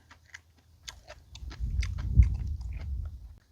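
Close, wet chewing and soft crunching of pig trotter soup, with irregular bites and mouth sounds building into a denser stretch of mastication before trailing off.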